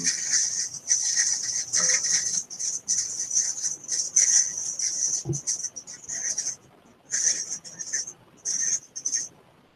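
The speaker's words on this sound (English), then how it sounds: "I muted you because there was some crinkling" Crinkling comes through an online voice chat as bright, papery rustles in irregular bursts that start and stop over several seconds, fairly close and clear, with no speech alongside.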